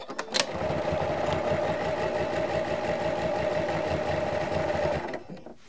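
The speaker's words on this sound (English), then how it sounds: "I'm just gonna start stitching here and to get this stitch down." A sewing machine stitches a vintage linen quilt-as-you-go wall hanging, running at a steady, even whir for about five seconds before stopping, close and clear with no talking.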